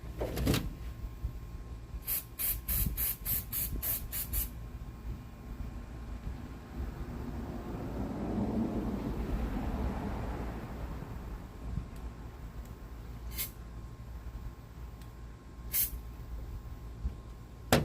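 Short hissing bursts of cleaner spray onto a Holley 4160 carburetor, a quick rapid series of spurts followed later by two isolated sprays, close and fairly loud over a low background hum.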